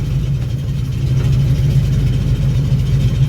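ZIL-130 truck engine idling in a field during harvest, a loud, steady low rumble close by and running unbroken without talk.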